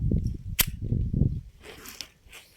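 A sharp metallic click-bang of an old gun's firing mechanism snaps once amid low handling rumble as it is cocked and triggered, followed by faint rattling.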